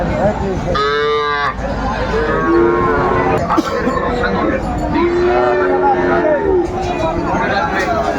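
Cows mooing at a busy rural cattle market in Dinajpur, with cows and calves for sale; several loud, drawn-out moos stand out over steady crowd hubbub and nearby talk.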